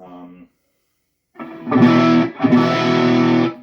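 Electric guitar through a Marshall JTM studio amp with overdrive distortion and treble and tone turned up: a brief note, a pause, then two loud, sustained, gritty chords ringing close and clear.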